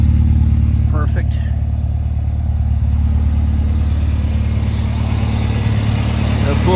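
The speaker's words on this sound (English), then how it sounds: "Car's got a nice exhaust note." A 1969 Alfa Romeo 1600 Duetto idling, its steady low exhaust rumble close and continuous, with a couple of brief clicks near the start.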